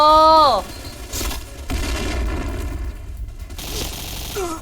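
Gunfire and an explosion from the video game Point Blank ring out: a loud burst opens, then rapid shots and blasts follow in bursts.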